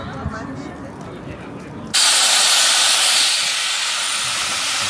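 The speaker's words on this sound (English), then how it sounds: "Oh, the train, whoa! Train just rolled in to the station." A steam locomotive arriving at a station at Dollywood, Pigeon Forge, Tennessee: a loud burst of hissing steam cuts in suddenly and keeps blasting, replacing a low rumble and a background voice.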